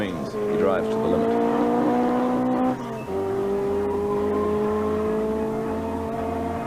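A 1983 New Zealand rally car pulls away at the rally start, its engine revving loudly through rising gear tones. A brief dip comes as it shifts, then it keeps accelerating, with a commentator talking over the sound.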